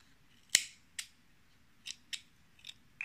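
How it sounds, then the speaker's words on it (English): Scissors snip off yarn ends on a crocheted shoulder bag: a handful of crisp, close, separate clicks spread over a few seconds in a quiet room. "Just cut the ends off."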